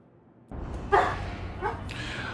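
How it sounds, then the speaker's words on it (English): A dog barks near a home gaming setup, with two or three sharp yips and barks that break into a quiet room, followed by a fainter whimpering bark. "Oh, what's all the barking about there, Bucky?"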